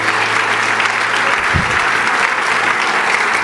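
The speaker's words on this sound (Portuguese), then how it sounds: "Dê a Ele mais um aplauso, porque Ele brilha, porque Ele resplandece." A church congregation at a Sunday evening service bursts into sustained applause, many hands clapping in a dense, loud and even wash, with a brief low thump partway through.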